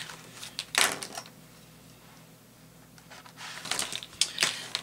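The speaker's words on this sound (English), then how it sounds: "let me fold this page back" An art journal page folded back, giving two bursts of close paper rustling and creasing separated by a quiet pause, with no talk.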